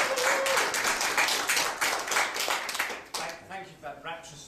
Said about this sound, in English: Thank you for that rapturous applause.